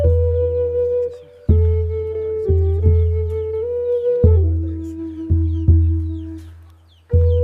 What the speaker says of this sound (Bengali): মুরগিগুলো খাবার খাচ্ছে মানুষগুলো চুপচাপ তাকিয়ে আছে